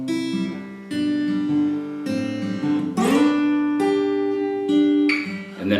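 Plucked guitar notes ring out in a steady repeating pattern, a few strummed chords marking each cycle, clear and close with no voices.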